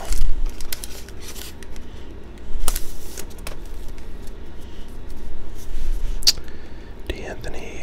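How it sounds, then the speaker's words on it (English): Close, crisp tearing and crinkling of foil wrapping as a thick 2018-19 Certified basketball trading card pack is opened, sharp rustles and snips coming in bursts, with soft whispering in places. "one more thick pack to open here"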